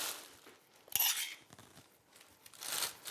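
Plastic roasting bag handled while marinating lamb in a home kitchen, giving several bursts of crinkling and rustling with a few sharp clicks, close and fairly quiet, with pauses between them and no talk.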